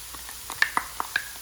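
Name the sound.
stir-fry sauce added to hot pan with zucchini, sizzling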